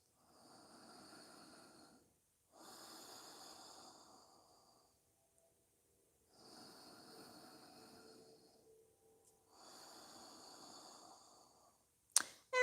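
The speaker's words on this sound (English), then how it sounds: "Breathing through your nose." Slow nasal breathing during a seated yoga twist, alternating soft inhales and exhales in long, even swells separated by short pauses, quiet and close.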